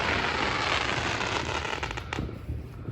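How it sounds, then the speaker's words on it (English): U.S. fireworks exploding at night: loud, continuous crackling and popping bursts that pile densely on one another, with a few sharper bangs toward the end. "What's the fireworks look like this, Milorad?"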